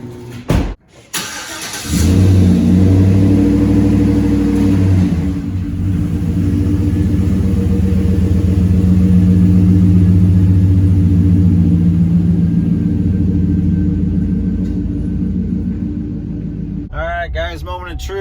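Chevrolet Silverado pickup engine, fitted with a 2.5-inch leveling kit and suspension upgrades, running on a night test drive: a loud, steady low rumble that swells and holds, with a brief voice near the end.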